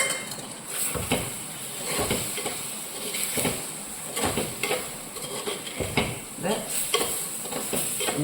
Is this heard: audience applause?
no